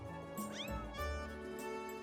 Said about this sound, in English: here is the cat lemur thing